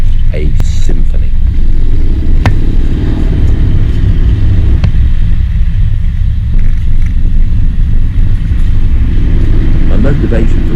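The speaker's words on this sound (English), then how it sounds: "Vance & Hines twin/slash exhaust on this bike, and it sounds like a roaring, angry lion" A Yamaha XVS950 Bolt motorcycle with a Vance & Hines twin exhaust rumbles deep and loud at close range, a steady low throaty roar lasting throughout with brief clicks over it.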